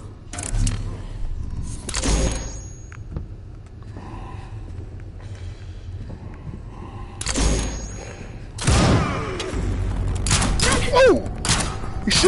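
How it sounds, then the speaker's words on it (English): Gunfire in the virtual-reality horror game The Persistence comes in sharp, loud bursts of shots, close and heavy, separated by quieter stretches of low ambience, with a long run of shooting near the end. "He's shooting back."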